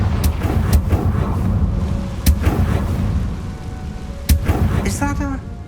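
The Confringo explosive spell from the video game Hogwarts Legacy, heavy booming blasts and bursts over a dense rumbling background, with a brief ringing shimmer near the end.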